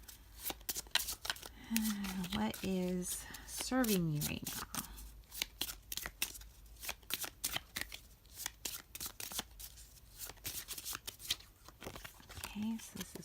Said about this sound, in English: so let's give this a shuffle